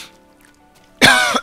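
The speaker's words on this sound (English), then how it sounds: "sit here coughing myself to death for no apparent reason" A video game character coughs hard in a short harsh burst after near silence, loud and close, with no talking.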